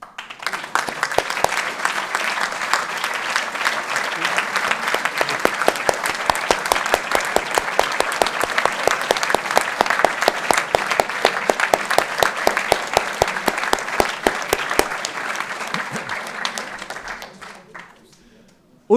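Sustained audience applause for the local organizing committee at the 2020 OdPF prize ceremony in Paris, dense clapping holding steady for about sixteen seconds before tapering off, with a faint voice over it.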